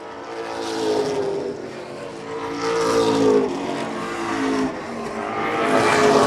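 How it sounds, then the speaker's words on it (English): Race cars roar past on the Wiscasset Speedway oval in repeated loud waves, their engines swelling and fading as they circle, with no voices over the track noise. "The fastest car on the track right now is St. Clair in the 14"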